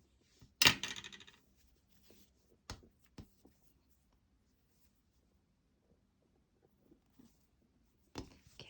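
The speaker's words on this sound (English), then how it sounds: "Grab your scissors and a snip." Scissors snip crochet yarn close by on a coaster project, with a sharp cut near the start followed by a few faint clicks and handling sounds in a quiet room, then another snip at the end.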